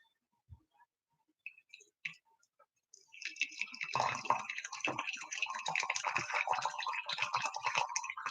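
Water poured from a kettle into a teapot or cup for tea, a continuous splashing trickle that starts after a few soft clicks and faint taps and carries on steadily to the end.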